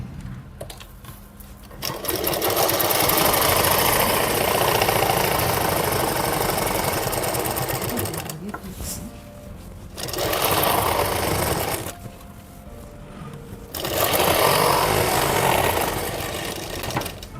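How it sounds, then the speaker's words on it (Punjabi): Sewing machine stitching along the neckline of a suit, running in three sustained bursts of loud, rapid mechanical whirring with short quiet pauses between them, close up and without talk. "ਇਹਦੇ ਨਾਲ ਨਾਲ ਸਲਾਈ ਲਾਉਣੀ ਆ ਦੇਖੋ ਹੁਣ ਜਿਵੇਂ ਮੈਂ ਲਾਉਣ ਲੱਗੀ ਆ"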